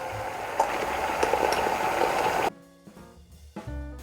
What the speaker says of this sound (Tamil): இப்போ பாருங்கள், தண்ணி நல்லா கொதிச்சிட்ருக்கு.